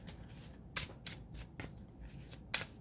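Tarot cards riffle and slap in a series of crisp bursts, several quick shuffles close to the mic, with a final flurry toward the end.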